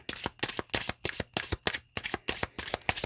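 Tea Leaf Oracle cards being shuffled in rapid, even riffles, about a dozen crisp papery bursts in three seconds, close and moderately loud with no talking.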